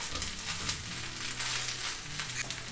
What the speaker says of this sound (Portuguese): Eu vou colocar um pouco da banha, da gordura que ficou do bacon e da linguiça que eu reservei.